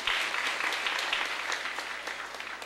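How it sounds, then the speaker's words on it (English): Audience applause for a Manchester High School theater group at a town hall meeting, steady dense clapping filling the room throughout without talk. "Please give them a round of applause."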